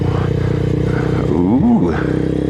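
A 2022 Honda Grom motorcycle pulls along in second gear, its steady engine drone close and loud throughout, with a brief rising and falling tonal sweep partway through.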